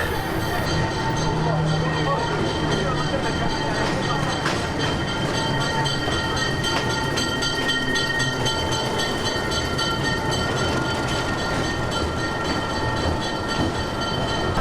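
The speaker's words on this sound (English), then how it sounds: "we're gonna be catching that train that you just saw" A train rumbles and rattles steadily nearby at Aguascalientes, the Machu Picchu town, with humming tones and clatter, while people talk over it.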